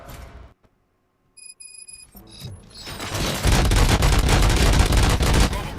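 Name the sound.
gunshots in video game RoboCop: Rogue City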